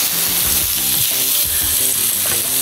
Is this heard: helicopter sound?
no